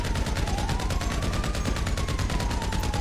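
A continuous rapid burst of automatic gunfire in GTA 5, evenly pulsing shots emptying a whole magazine, loud and steady throughout over a low rumble and a faint rising tone.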